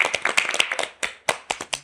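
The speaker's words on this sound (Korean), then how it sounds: "박수 한번" Clapping in a small group during a Korean talk show while a song is being recalled: a few sharp hand claps in an uneven rhythm, close and distinct, with brief pauses between bursts.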